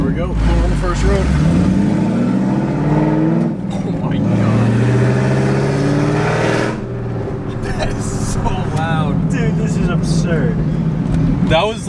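A 1999–2004 New Edge Mustang with long tube headers, muffler delete and cat delete pulls away at light throttle, its loud rumbling exhaust rising and falling in pitch through repeated shifts and drowning out the speech that continues beneath it.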